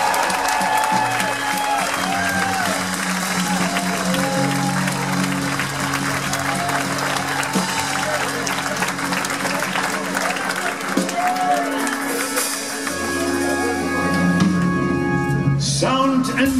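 Applause and crowd noise at a rock concert on a cruise for the band's guitarist, steady throughout with sustained band tones and stage sounds running beneath it.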